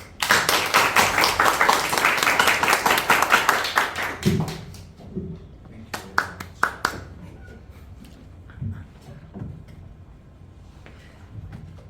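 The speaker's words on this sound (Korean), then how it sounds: "우리 큰 박수로 우리 환영해 주시기 바랍니다" A church congregation breaks into loud, sustained applause to welcome a visiting pastor, dense clapping for about four seconds, then tapering into scattered claps and quiet room noise.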